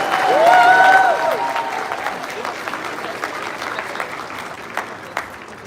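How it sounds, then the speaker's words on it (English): A convention audience claps at a closing ceremony, a loud burst swelling early and then thinning into scattered claps, with voices and cheers mixed in over the crowd. "So give yourselves a round of applause."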